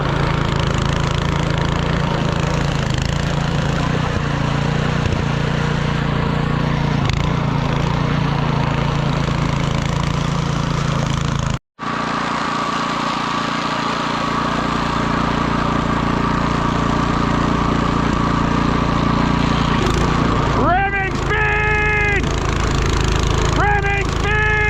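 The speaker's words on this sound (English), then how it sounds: "Now that's how you drive a snowmobile or snowblower." A snowmobile engine runs steadily outdoors on a winter fishing outing, a close, continuous low drone that briefly drops out midway, then resumes as faint voices join near the end.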